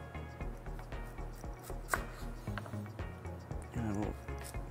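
A knife cuts a peeled vegetable into batons on a board, giving a series of firm, evenly spaced chopping thuds close by, with someone talking over them throughout.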